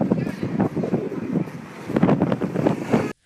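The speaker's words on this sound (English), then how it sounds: "下着大风" Strong gusting wind during a windstorm in a Chinese city roars and buffets loudly against the microphone, swelling and easing in surges. Voices can be heard under the roar, and the sound cuts off abruptly at the end.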